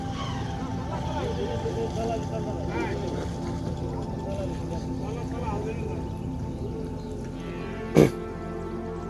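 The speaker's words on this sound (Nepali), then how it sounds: "काठको डुङ्गा जसको इन्जिन थिए, एकजना चालक र बाँसबाट बनेको ह्यान्डल।" An engine-powered wooden boat with a bamboo handle crosses a river in Nepal's eastern Terai, a steady low motor drone close by, one sharp knock near the end, with voices talking over it.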